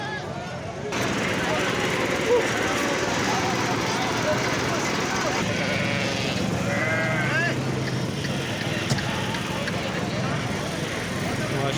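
Goats bleat repeatedly at a goat market in Talagang, Pakistan, against a busy outdoor background, a crowd murmur and distant traffic running underneath throughout.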